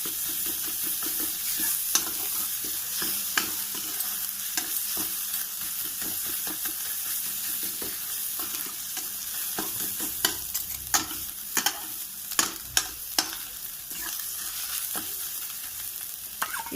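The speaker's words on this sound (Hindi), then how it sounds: "प्याज यहाँ पे भून लिया तो अदरक लहसुन जो हमने क्रश करके रखा था वो भी डाल दिया और इसे भी भून लेंगे साथ में" Onion, crushed ginger and garlic fry and sizzle steadily in a pan for paneer curry, with a spatula scraping and stirring in frequent sharp clinks throughout, close and continuous, no talking.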